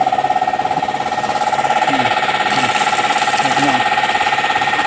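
An engine runs steadily and loud while blowing out a borehole pipe during a well repair, a continuous throbbing drone with a rhythmic pulse and a brief higher hiss partway through.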